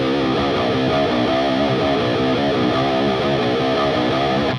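Distorted electric guitar plays the verse riff of a song with bends and vibrato, slow, loud and continuous with chugging low notes and no talking.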